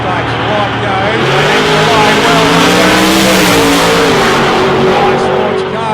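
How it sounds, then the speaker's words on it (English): A drag racing car launches down the track at an ANDRA Grand Final with a loud, close, rising engine roar that sweeps upward in pitch and stays sustained, with a commentator's voice talking over it. "Nice launch. Car goes straight down the centre of the track."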